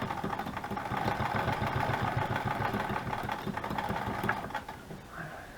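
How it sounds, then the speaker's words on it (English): A sewing machine runs steadily, stitching a lace journal cover with a continuous whirring motor hum and rapid needle rhythm, close and fairly loud, easing off near the end. "I was going to have Chelle try to sew it"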